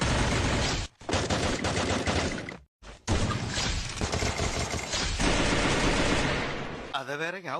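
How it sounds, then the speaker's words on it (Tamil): Loud bursts of vintage-era gun sound effects from the Free Fire mobile game, rapid repeated shots broken by two short silent gaps and ending in a warbling tail. "ஓல்ட் கன் சவுண்ட். ஃப்ரீ ஃபயரின் விண்டேஜ் காலகட்டத்துல இருந்த இந்த கன் சவுண்ட் எஃபெக்ட் எல்லாம் கேட்கவே சூப்பரா இருக்கும்."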